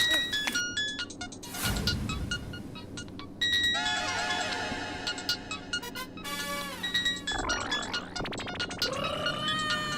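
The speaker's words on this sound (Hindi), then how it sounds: "फोन किसका बज रहा है?" A bright, chirpy electronic ringtone melody repeats loudly over a busy backdrop of voices and noise, with tonal bursts recurring throughout.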